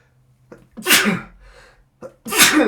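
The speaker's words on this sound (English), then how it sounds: "I'm going to sneeze." Two loud, close sneezes, each preceded by a short sharp intake of breath, with a brief quiet pause between them.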